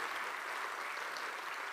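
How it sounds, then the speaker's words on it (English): A short burst of audience applause at a talk, dense steady clapping from a room of listeners with no voices over it. "Round of applause for Josh"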